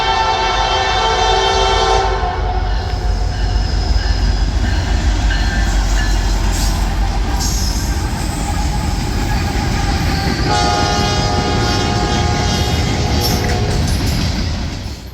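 A Norfolk Southern freight train rumbles past close by, heavy steady wheel noise with a horn sounding in long tones over it.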